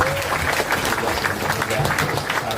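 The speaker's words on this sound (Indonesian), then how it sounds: "Kita beri tepuk tangan buat para" Loud crowd applause fills a short stretch at a public gathering, with clapping blended into a noisy roar of voices.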